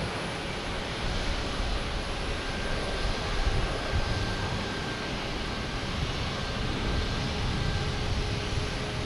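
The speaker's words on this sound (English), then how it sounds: "but you get a little sound from the engines." A regional airliner at Boston Logan Airport, its engines giving a steady broadband roar heard at a moderate distance, swelling slightly midway, without any talk.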